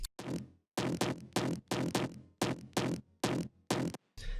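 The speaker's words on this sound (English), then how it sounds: "It's a Serum preset actually called Dawn, and it sounds like this." A distorted, punchy synth bass from the Serum preset Dawn plays a rhythmic pattern of about ten sharp staccato notes with gaps between them.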